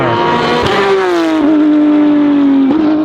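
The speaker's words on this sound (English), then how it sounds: "Oh, here's the Cup car." Porsche Cup race car passing on a racetrack, a loud sustained engine drone with a steady high pitch that drops slightly, plus brief shifts in tone as it goes by close.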